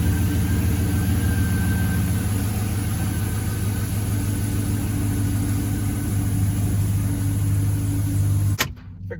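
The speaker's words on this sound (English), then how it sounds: "Figure we'll run her up the road here real quick, see how she does." Chevrolet Silverado pickup truck engine running steadily as it drives up the road, a loud continuous mid-pitched drone with road rumble that cuts off abruptly near the end.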